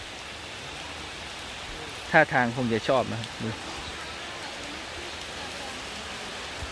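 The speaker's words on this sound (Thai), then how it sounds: "ฝนตกครับ" Steady rain hisses evenly throughout, and someone speaks briefly over it partway through.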